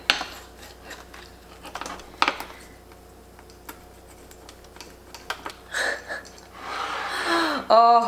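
Knife or cutter clinking and scraping through a shakshuka pizza on a fathead crust, sparse short taps and scrapes against a plate with a gasp and small vocal sounds between them.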